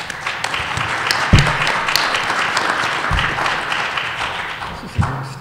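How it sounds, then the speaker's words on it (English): Audience applause rings out for a panel at a renewable energy summit, a steady round of many hands clapping that holds for several seconds at moderate loudness, with a few sharper claps standing out. "Round of applause, please."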